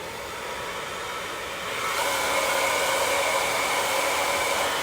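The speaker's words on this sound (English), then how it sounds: "this is a Parlux blow dryer" A Parlux hair dryer fitted with a silencer blows with a constant airy whoosh, then jumps to a louder, stronger rush partway through and holds there.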